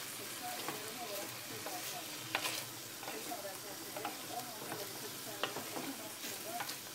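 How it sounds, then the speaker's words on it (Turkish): Vegetables and meat for a Turkish güveç stew stirred and fried in a pot, a steady soft sizzle with scattered scraping clicks from the utensil throughout, close and moderately quiet, with no talking. "Şimdi karıştırıyoruz."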